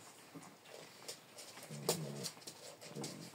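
Puppies whimper faintly, with one brief higher whine standing out midway over a soft, noisy background.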